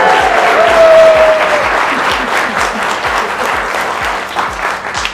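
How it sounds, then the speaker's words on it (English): Guests applaud loudly at a waterfront birthday and anniversary brunch, a sustained, dense crowd of clapping close by with a steady rhythmic pulse running through it and a brief tonal whistle early on. "Give her a round of applause."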